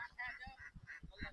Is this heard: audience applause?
no